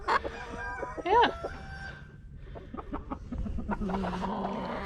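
A frizzle rooster crows loudly near the start, followed by clucking and other farmyard fowl sounds close by, with no talk.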